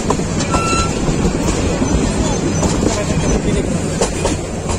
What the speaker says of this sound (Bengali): ওই পাশে কোনো মহানগর আছে অথবা সিলেটের কোন একটা ট্রেন।